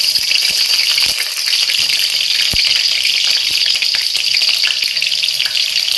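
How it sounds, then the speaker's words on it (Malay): Steady crackling sizzle of sliced onion frying in hot oil until crisp for beef rendang, loud and close, with a few faint clicks of a utensil. "Goreng bawang ni sampai garing"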